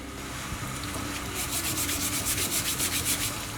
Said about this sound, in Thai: เดี๋ยวเราก็มาทำความสะอาดกันง่ายๆเลย ราดน้ำขัด